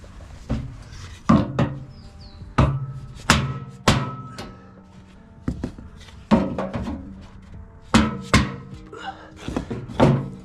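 A 1994 Ford F350 tailgate plate is hammered into place with a series of sharp metallic thunks, struck one at a time and in short bursts of two or three, loud and close, with no talking.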